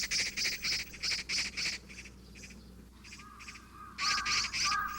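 Eurasian magpies chatter and squawk at an urban landfill, harsh rattling calls coming in repeated bursts, close and loud, with a quieter gap in the middle before a loud final burst.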